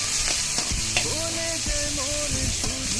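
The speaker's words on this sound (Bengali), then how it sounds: "এখন আমি তেল দিয়ে দিচ্ছি কড়াইতে। তারপরে দিয়ে দিলাম পেঁয়াজ কুচি" Chopped onion hits hot oil in a wok and sizzles loudly and continuously up close, a dense crackling fry with a few clinks and scrapes of stirring.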